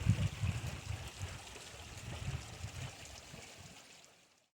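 Monsoon rainwater running like a small river over a desert driveway beside a shop, a close, steady rushing and gurgling flow with low churning surges, fading out at the end.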